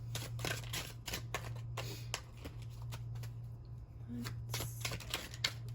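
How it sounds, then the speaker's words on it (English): Tarot cards shuffled by hand, a rapid run of crisp riffling bursts and soft slaps repeating close up over a faint low hum. "let's go ahead and shuffle up the tarot cards a little bit"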